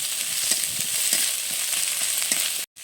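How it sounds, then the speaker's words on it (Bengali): Onion with garlic and ginger paste frying in a pan while being stirred, a loud, continuous hissing sizzle up close with faint rhythmic scrapes, cutting off abruptly near the end. "পেঁয়াজটাকে একটু ভেজে নিয়েছি আর দিয়ে দিচ্ছি রসুন বাটা আর একটুখানি আদা বাটা দিয়ে আমি আবারও একটু নেড়ে চেড়ে নিচ্ছি"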